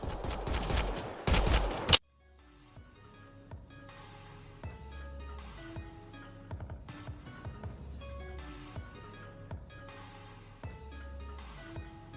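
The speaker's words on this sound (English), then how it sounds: "Stop shooting." Gunfire in the video game Mass Effect Andromeda at a poachers' camp, a dense burst of rapid shots at the start that cuts off abruptly, followed by quieter game music and sounds.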